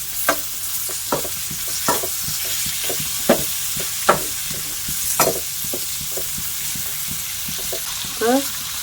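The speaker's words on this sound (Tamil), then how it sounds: "வெங்காயம், நல்லா வதக்கிக்கலாம்." Onions, with a few garlic cloves, fry in a pan for paneer butter masala, producing a loud, steady sizzle punctuated by regular spatula scrapes close by, and a short voice-like sound at the end.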